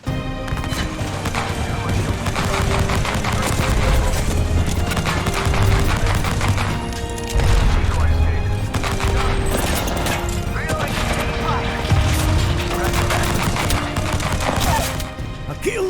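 A P2020 pistol fires in Apex Legends, with rapid, repeated sharp shots and clattering in dense bursts that run the whole way through, alongside game effects and a voice talking over them.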